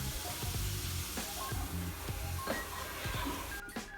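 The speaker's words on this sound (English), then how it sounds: "Then you're going to mix it with a spoon, making sure that it's mixed thoroughly" A spoon stirring sweet corn into a thick squash soup in a pot: soft, quiet scraping and light knocks against the pot in an uneven rhythm, with a faint hiss behind it.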